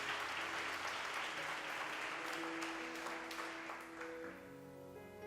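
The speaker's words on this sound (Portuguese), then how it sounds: "Você pode aplaudir esse Jesus maravilhoso." A church congregation applauds during a sermon in a steady wash of clapping that fades slightly toward the end, faint, with a sustained musical tone beneath it.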